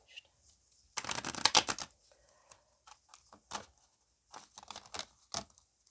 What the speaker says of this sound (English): Not the most elegant shuffler here,